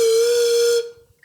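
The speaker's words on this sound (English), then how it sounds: "You make a whistle, it's called resonance." A homemade whistle made from a drinking straw and a cup gives one loud, steady, pure tone for nearly a second before cutting off abruptly, with a brief faint squeak after.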